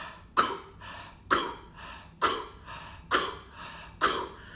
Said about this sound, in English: And the ku is the exhale, a forceful ku sound.